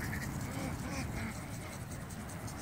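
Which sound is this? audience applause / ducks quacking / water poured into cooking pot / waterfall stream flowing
ducks quacking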